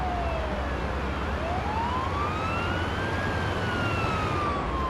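An ambulance siren wails in the video game Ambulance Life, its pitch sweeping steadily up and down over a constant engine and road rumble, loud and continuous throughout.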